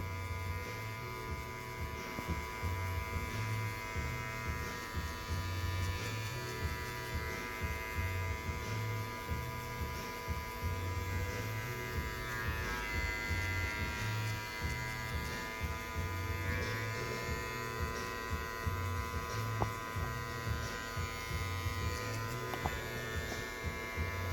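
Electric hair clippers buzz steadily close by while cutting a fade, a continuous humming drone with faint rhythmic pulses as the blade moves through the hair.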